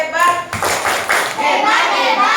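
Schoolchildren in a fourth-grade classroom perform a quick rhythmic 'tepuk hebat' clap, a burst of many hands slapping together in patterned beats, loud and close, with children's voices calling out alongside.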